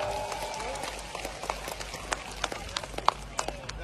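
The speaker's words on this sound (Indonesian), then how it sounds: "Lawan semua, tepuk tangan yang meriah." Scattered hand claps from a rally crowd in Aceh gathered for Anies Baswedan, building from sparse claps into a steadier patter over a constant murmur of crowd noise and voices.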